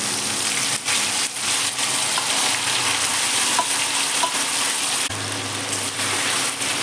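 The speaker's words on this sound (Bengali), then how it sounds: "এবার আমি ওই তেলের মধ্যেই মাংসটা দিয়ে দেবো।" Marinated chicken hits hot oil on a high flame and sizzles loudly and steadily, a dense close frying hiss with brief stirring knocks and a low hum joining near the end.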